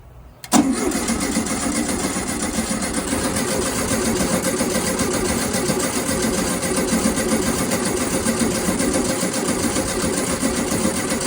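A car engine cranks briefly, then catches and runs continuously at a steady, loud idle right after a new fuel system is installed, with no talking.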